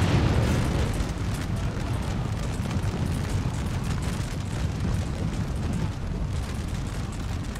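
An artillery barrage in Napoleon: Total War gives a constant rumbling roar of overlapping booms and blasts, loud and dense throughout, with no voices.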